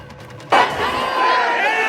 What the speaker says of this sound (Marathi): घोषणाबाजी इथं केली जाते